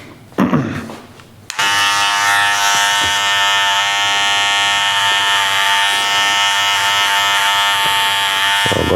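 Electric hair clipper with a 1.5 guard cutting hair, starting with a brief rustle and clatter before the clipper switches on into a loud steady buzzing hum that runs close and continuous to the end.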